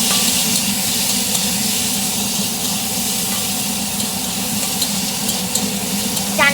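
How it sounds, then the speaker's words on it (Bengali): Potatoes rubbed with salt and turmeric fry in a kadai with a steady, close sizzle and hiss that holds evenly throughout, no voices over it. "নুন হলুদ মাখানো আলুটা আমি কড়াইতে দিয়ে একটু ভেজে নেবো"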